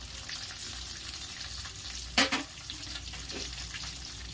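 Green chillies slit lengthwise and crushed garlic frying in a pan, a steady low sizzle with one brief louder crackle burst near the middle as they hit the oil.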